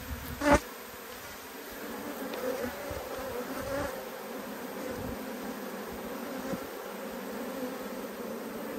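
Bees buzz continuously during a beehive inspection, a steady droning hum close by. One sharp knock is heard near the start, and there is no talking.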